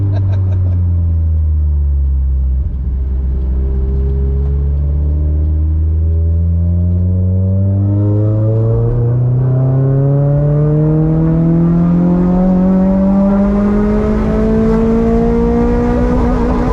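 A Toyota MR2 SW20 with a naturally aspirated 3S-GE engine revs hard while driving, a loud in-cabin drone that climbs steadily in pitch through a long pull, with road rumble underneath.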